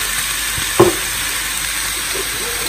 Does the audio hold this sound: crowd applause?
no